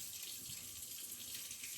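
Tap water runs steadily over green onions being washed in a kitchen sink, a soft continuous hiss and splash, fairly quiet and close with no talking.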